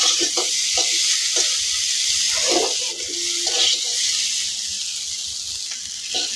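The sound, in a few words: potatoes frying in oil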